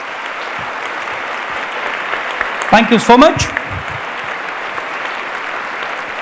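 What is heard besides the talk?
applause for a guest at an event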